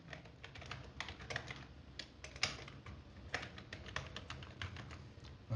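Quick, close keystrokes tap on a computer keyboard while text goes into a Microsoft Word table, an irregular run of crisp clicks with short pauses, quiet and alone.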